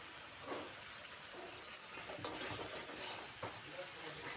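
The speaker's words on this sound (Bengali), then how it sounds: "মশলাটা ভাজা ভাজা হয়ে গেছে" Spice masala sizzles in a pan with salt added, a soft continuous frying hiss broken by occasional scraping stirs and a couple of sharp utensil clinks, fairly quiet and without talk.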